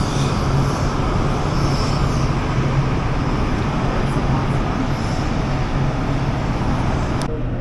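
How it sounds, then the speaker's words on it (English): Steady traffic noise in a street in Manta, Ecuador, where most of the motorbikes are small 100cc machines, forming a loud, continuous drone with no clear gaps. "All the motorbikes are mainly little 100s."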